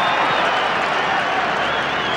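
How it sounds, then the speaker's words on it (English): A Collingwood football crowd at Victoria Park in 1993 reacts to a North Melbourne goal: a steady, dense roar of murmuring and scattered applause from a large crowd, continuous and mid-distance. "The Collingwood crowd not happy"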